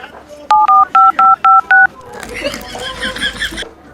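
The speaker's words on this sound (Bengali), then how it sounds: "ও দেখি মেসির একটা ফোন দেয়।" A mobile phone keypad is dialed, giving six crisp, loud dial-tone beeps in quick succession, followed by a softer burst of ringing or connection noise.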